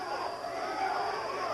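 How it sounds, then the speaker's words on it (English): A boxing arena crowd chants a fighter's name, Vito, during the Vito Antuofermo vs Hugo Corro bout, a steady roar of massed voices running continuously at moderate loudness. "Crowd is yelling, Vito, Vito, Vito, as he finally scored with a couple of punches"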